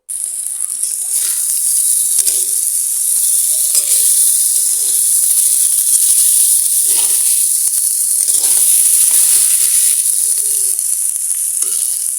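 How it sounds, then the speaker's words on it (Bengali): Mixed vegetables fry in a pan with salt and turmeric, a loud, continuous high sizzle that stays steady throughout, with faint stirring scrapes underneath. "এরপর এর ভিতর লবণ আর হলুদ দিয়ে একটু ভালো করে ভেজে নেব"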